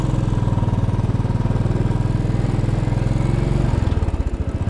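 A Royal Enfield Bullet 500 motorcycle idles at a traffic light in New York City, its single-cylinder engine thumping in a loud, even, rapid pulse close by, with a slight change in tone near the end.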